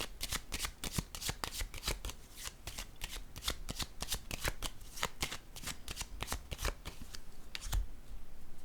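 A deck of cards is shuffled for a reading, a rapid, continuous riffle of crisp flicks in quick succession, close and fairly quiet, with no voices.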